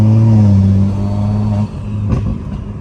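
A BMW with its exhaust valves opened idles with a steady low rumble, then drops off with a few sharp pops and crackles from the exhaust. The sound is close and loud, with no talking.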